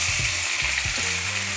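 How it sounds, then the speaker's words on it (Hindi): Potatoes go into onions already frying in a pan for aloo bhujia, and a steady loud sizzle follows, with a few short stirring scrapes and clatters near the start. No one talks. "अब इसके अंदर मैं डालने लगी हूँ तमाम आलू"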